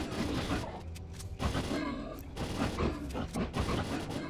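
Rapid gunfire in STALKER, in a firefight at Cordon: quick bursts of shots with uneven rhythm, fairly quiet and busy, mixed with other game noise and bits of a voice.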